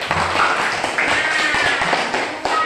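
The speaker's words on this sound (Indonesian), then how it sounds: "Tepuk tangan untuk semuanya." A school class applauding everyone together in a classroom, a dense, close patter of many hands clapping with faint voices mixed in.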